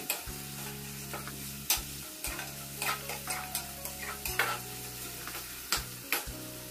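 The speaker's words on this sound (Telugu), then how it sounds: "బాగా తిప్పేయాలండి. ఆనియన్స్ బాగా ఫ్రై అవ్వాలి." Onions frying in ghee and being stirred in a pot for chicken pulao: a low, even sizzle broken by rhythmic scraping strokes and clicks of a spoon, close and fairly quiet, with a steady hum underneath.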